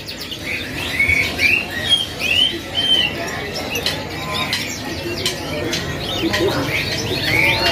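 AF series singing canaries at a bird kiosk trill and chirp in bright repeated phrases over a busy, noisy background hum, with several birds calling at once.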